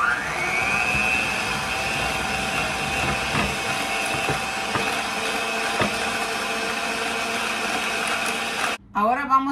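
An electric mixer whirs steadily and loudly while beating sweet potato donut batter with eggs, a continuous motor drone that cuts off abruptly near the end.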